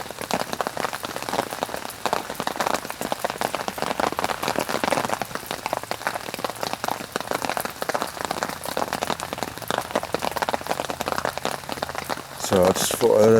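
Steady rain patters on a surface beside a fishing booth at a lake at dusk, a dense, constant hiss of drops running throughout, with faint voice-like sounds mixed in.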